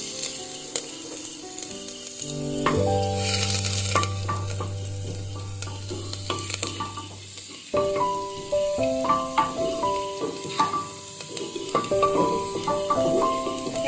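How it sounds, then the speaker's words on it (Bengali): Chopped ginger and garlic frying in hot white oil in a pressure cooker, a steady sizzle under a background of musical tones, with intermittent stirring scrapes. "তেলটা গরম হয়ে গেছে, এবার দিয়ে দেবো আদা কুচি"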